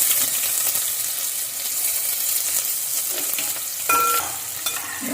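Onions hit hot oil already crackling with mustard seeds and cumin, giving a loud, dense hiss that runs throughout, with a brief clatter and a short metallic ring near the end.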